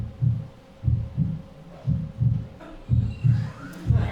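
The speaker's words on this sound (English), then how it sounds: "It sounds like a heartbeat," A heartbeat sound effect in a Dungeons & Dragons live play session, a loud, close, deep thumping in regular lub-dub pairs repeating steadily with no talk over it.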